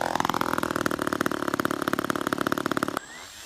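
A small gas engine on a model airplane buzzes loud and close with a rapid pulsing beat, its pitch rising slightly early on, then cuts off abruptly near the end, leaving a faint whine.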